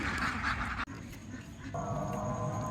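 Ducks on a small farm quacking in a dense, overlapping chorus, close and fairly loud, with the calling cutting off briefly and then resuming at a slightly lower level.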